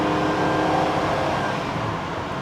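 The engine of a 1992 Mercury Cougar Classic Coupe with 61,000 miles drones steadily and loudly while accelerating on the road, a continuous dense roar with little change in pitch.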